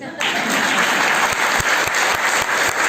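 Steady audience applause at a women entrepreneurs' gathering, a dense wash of many hands clapping close and loud for the full length, with some low thumps scattered through it.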